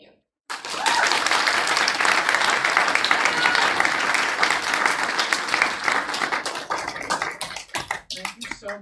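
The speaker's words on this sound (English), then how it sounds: "Can we all give another round of applause for Myra?" A live audience at a spring speakers forum breaks into dense, sustained applause that fills the room for several seconds, then thins into scattered claps as it dies away.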